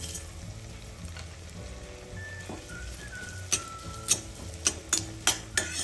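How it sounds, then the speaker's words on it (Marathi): Dry coconut and whole spices roasting in a pan for a Maharashtrian Bhogi vegetable: a low steady sizzle with soft stirring, then several sharp scraping clicks of the spatula near the end. "पण खोबरं टाकूया आपण छान भाजून घेऊ."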